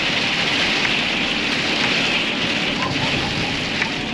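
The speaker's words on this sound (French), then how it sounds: "C'est un peu la belle averse de Noël" Heavy Christmas-time rain shower drumming steadily on a car while driving, a dense continuous hiss of rain and road noise filling the whole stretch at close range, with no voices.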